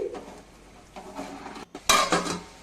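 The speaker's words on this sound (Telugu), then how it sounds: "మూత పెట్టేసుకుందాం అన్నం మంచిగా ఉడుకుతుందండి" A lid is set onto a pot of cooking vegetable biryani rice, making a short metallic clatter and clink after some softer quiet handling noises, close up and brief.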